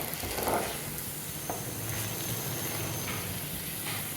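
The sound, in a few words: chicken frying in pan with spice powder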